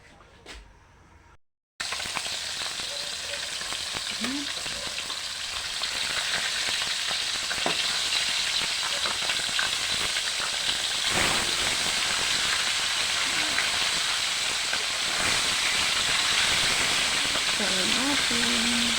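Dalagang bukid fish frying in a little cooking oil gives a steady, loud sizzle and hiss once it hits the pan after a short quiet start, with occasional faint clinks and a voice now and then under the crackle.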